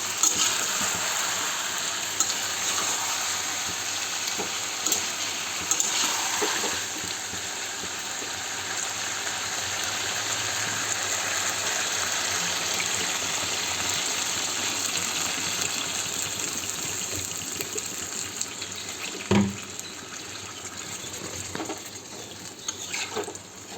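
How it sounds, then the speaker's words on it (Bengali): Water poured into a pan of browned, slow-fried meat makes a steady, loud gushing and sizzling hiss that runs unbroken for the full stretch, with a brief clatter near the end and no talking. "জল দিয়ে দেব"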